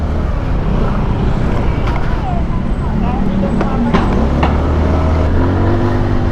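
A Motorstar Easy Ride 150 N motorcycle is ridden on the road, its engine and wind noise forming a steady loud rumble while the rider talks throughout.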